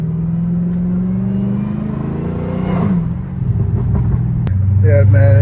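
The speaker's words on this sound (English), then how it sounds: "Definitely the whine's not as loud, even though like I have valves, it's still not as loud." A catless Dodge Hellcat Redeye runs with its exhaust valves closed, a close, loud engine drone that rises and dips under revs, with supercharger whine and a deeper surge near the end, as someone talks.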